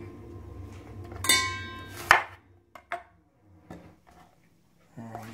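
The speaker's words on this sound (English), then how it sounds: "Now here I'm chopping some, cutting a few bits of." Apples are chopped on a board with a knife for a smoothie: a few distinct, irregular chopping knocks at close range, with light kitchen clatter and quiet gaps in between.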